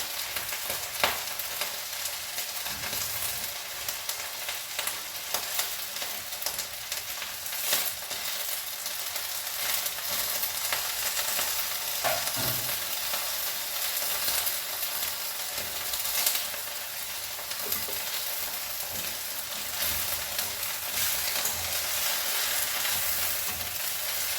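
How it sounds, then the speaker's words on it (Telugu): Fresh coriander fries together with tomato, fenugreek leaves and amla in a pan, a continuous close, bright sizzle with scattered crackles and occasional stirring scrapes throughout. "ఇది కూడా వీటితో పాటు మంచిగా వేగిపోతుంది"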